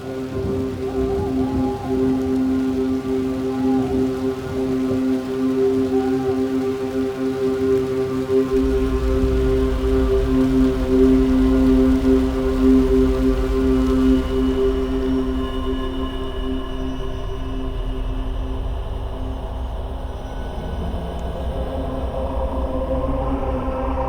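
A dense, evolving synthesizer texture from an Alchemy synth plays steadily with sustained tones and a deep bass layer entering partway through, washy and continuous, with no voices.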